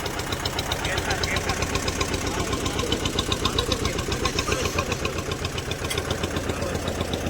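A newly bought boat engine chugs steadily nearby, a loud rhythmic mid-pitched idle with knocking pulses that holds even throughout.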